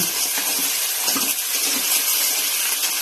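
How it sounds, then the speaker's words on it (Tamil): Water pours and splashes steadily into a pan of cooking crab, a continuous hissing gush with faint clinks underneath, no voices. "நண்டு போட்டுட்டு கொஞ்சமாக தண்ணி சேர்த்து வேக விடுங்க"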